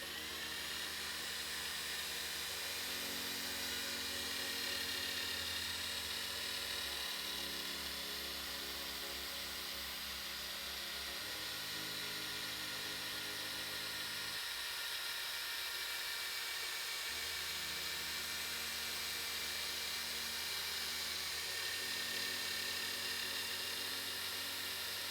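A power drill with a polishing pad buffs a hazy plastic headlight on a Ford F150 pickup, a steady loud whine that rises and dips in pitch as the drill speeds up and slows across the passes, with no talk.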